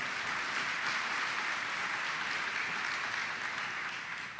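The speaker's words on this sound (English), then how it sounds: "let's give them a round of applause for their service." A crowd at a hall of fame induction ceremony claps steadily, a sustained wash of applause that holds its level and tapers slightly at the end.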